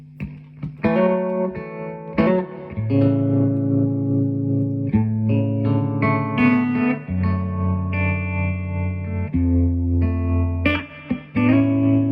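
Electric guitar chords and single notes ring out loudly, shimmering with pulsing tremolo from a Trelicopter pedal and a wash of reverb trailing each phrase.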